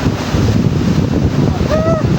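Strong wind at sea buffets the microphone on a boat, making a loud, continuous roar of rushing air with faint whistling tones.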